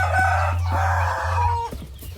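Rhode Island chickens on a farm cluck and crow in a steady, close run of fowl calls that fades near the end, with no voices.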